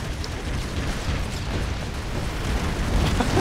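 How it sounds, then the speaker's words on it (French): A nuclear explosion in the side-scrolling game Broforce roars as a dense, continuous rumbling blast, loud and unbroken, swelling slightly toward the end. "Mec, il y a une explosion nucléaire là."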